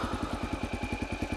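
A Honda XR650L single-cylinder motorcycle fitted with an FMF Powercore 4 exhaust and quiet insert with spark arrestor idles up close, a steady, rapid, even thumping throb that continues throughout.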